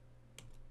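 A single enter key press on a computer keyboard, one quiet sharp click against faint room hum.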